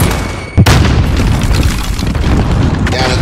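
A P90 gun fires in a video game, loud and close, with a sharp initial boom followed by a sustained roar of heavy, rumbling fire.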